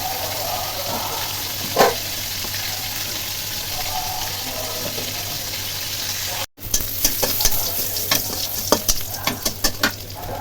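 Fish hisses and sizzles steadily in a hot cooking pan, with a constant frying crackle, a brief cut, then sharper spattering pops and stirring clatter.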